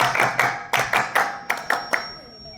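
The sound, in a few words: clapping at a school street play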